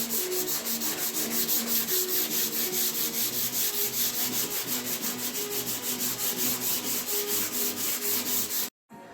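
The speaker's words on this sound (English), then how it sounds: "The first wave of dolphin glaze sanding has been done." Dolphin glaze filler on an R33 Skyline front bumper is sanded by hand in quick, steady back-and-forth rasping strokes, close and even, before the sound cuts off abruptly near the end.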